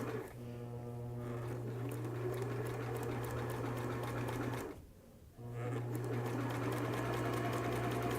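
Sewing machine stitching a curved seam on a cap, running in a steady hum that cuts out briefly and then resumes, with no talking.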